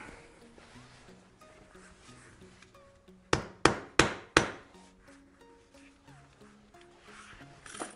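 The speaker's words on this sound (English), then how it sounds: "then you'll take a hammer and you'll beat it out flat" A hammer beats a piece of cut sheet metal flat, four loud, sharp ringing strikes in quick succession against a quiet background.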